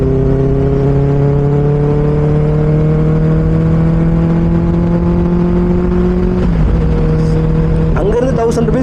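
Benelli 600i motorcycle exhaust droning steadily at a held rev, loud and close, the pitch sagging briefly near the end before a sharper blip of revving.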